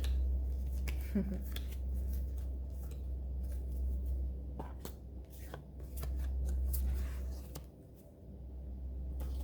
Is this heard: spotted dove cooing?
no